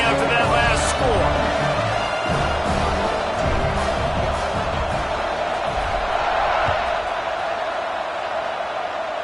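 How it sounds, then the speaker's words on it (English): A dense, loud crowd roar fills a football stadium late in the final period after a score, a continuous wash of cheering with faint shouts mixed in throughout. "this crowd is buzzing after that last score"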